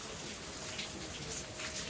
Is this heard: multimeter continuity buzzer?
no